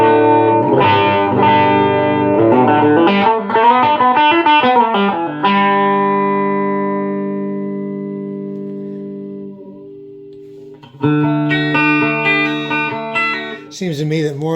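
Electro-Harmonix Epitome pedal set to flanger with depth all the way up and a slow rate, sweeping chords of a loud guitar that ring out and decay, then strum again with a sweeping, whooshing comb-filter tone.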